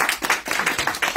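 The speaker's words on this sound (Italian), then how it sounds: "Facciamo un applauso." Audience clapping at an Italian book presentation, a short burst of dense, fairly close hand claps with no talk over it.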